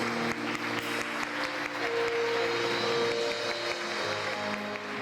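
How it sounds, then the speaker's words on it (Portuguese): Congregation clapping during a church service, a steady, dense applause held at even loudness throughout with music or tonal sound beneath it. "Dê um forte aplauso ao Senhor."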